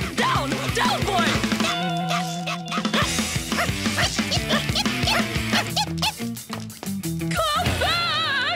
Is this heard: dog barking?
yes